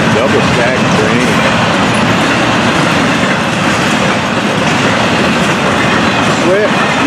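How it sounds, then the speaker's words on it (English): An FEC 210 double stack freight train rolls past close by in East Central Florida, a loud continuous rumble with rhythmic wheel clatter and occasional squeals; a voice speaks briefly under the noise. "Now let's take a look at 210 double stack train."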